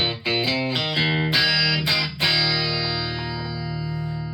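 A Gibson Melody Maker electric guitar plays through a Digitech Bad Monkey tube overdrive pedal set with every knob at noon into a Blackstar ID Core 20-watt modelling amp. A few crunchy picked chords are followed by a final chord ringing out and slowly decaying.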